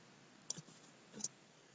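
A computer mouse gives two faint, crisp clicks about three quarters of a second apart in a quiet room.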